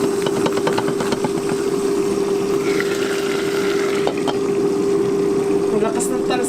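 Fish frying in hot oil gives off a steady, dense sizzle with scattered crackling splatters, close and loud, over a constant low hum, with brief voice sounds.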